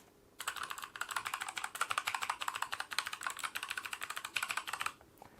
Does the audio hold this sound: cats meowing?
no